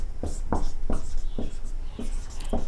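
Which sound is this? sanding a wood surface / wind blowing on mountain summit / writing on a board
writing on a board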